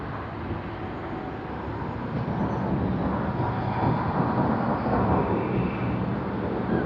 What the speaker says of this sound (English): I'm pretty sure the A380 that we see on screen now is going to have a wonderful landing too